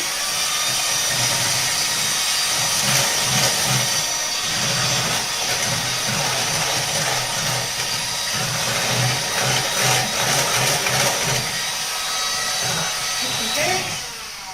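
An electric whisk beats eggs into blondie batter with a steady motorized whir, close and continuous for the whole stretch, with a rhythmic pulsing as the beaters move through the mixture.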